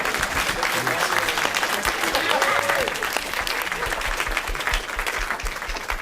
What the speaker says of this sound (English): You can keep the applause going until they get up here